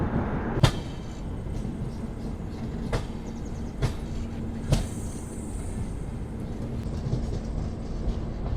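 An Intercity SF Express train runs along with a steady rumble, and sharp rail-joint clacks come at irregular intervals throughout, close and continuous with no voices.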